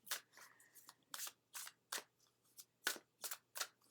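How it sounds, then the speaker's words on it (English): Tarot cards are shuffled close by in a quick series of about a dozen crisp riffling bursts, separated by short pauses in a quiet room. "let me shuffle up a little bit more"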